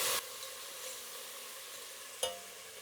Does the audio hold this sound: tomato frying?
yes